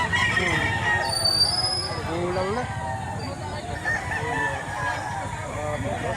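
A large rooster crows loudly nearby amid a noisy crowd at a rooster sale in Lipa, Batangas, with people talking over it and other fowl clucking in the background.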